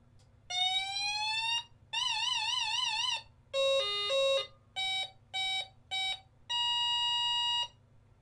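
A USB LED Andon tower light sounds its audible alarm in a series of electronic tones: a rising sweep, a warbling siren, stepped beeps, four short bursts and a long steady tone, with a faint hum underneath.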